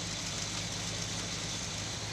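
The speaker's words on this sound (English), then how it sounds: "listen to the engine right now" A cold car engine idles roughly in a steady, unbroken drone with a low rumble underneath, close by and with no talking.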